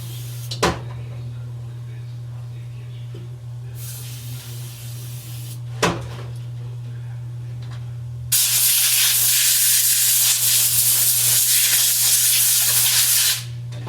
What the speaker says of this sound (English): We're gonna use solvents and compressed air.